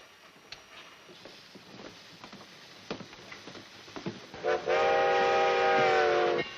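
Clanking and rattling of a train rolling in, then a loud sustained whistle blasts over the rumble.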